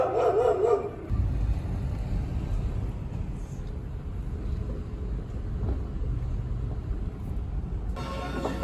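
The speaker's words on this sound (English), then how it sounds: "one of the dogs are going nuts right in the neighbor's yard." Dog in a neighbor's yard barking excitedly outdoors, a steady noisy stretch with low rumbling background, the barking moderately distant and mixed into ambient noise.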